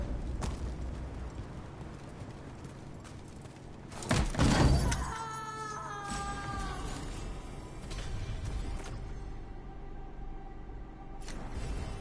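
A cat meows in the Dragon Age The Veilguard video game, a loud drawn-out cry rising over a constant background rumble, followed by softer tonal calls and scattered clatter.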